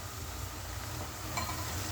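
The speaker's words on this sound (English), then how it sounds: "We're going to let that sizzle for 1 minute" A faint, continuous sizzle of garlic frying in a pan, a steady hiss with a slight crackle.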